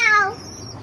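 Young pigeon squab held in the hand before slaughter, giving a brief, close, thin squeaking cry that starts loud and trails off within a second.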